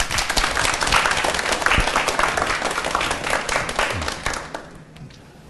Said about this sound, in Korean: 강의 박수로 청해 들어보겠습니다